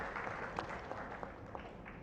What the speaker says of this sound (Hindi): एक बार अच्छे से तालियां मानसी जी की इस कृति के लिए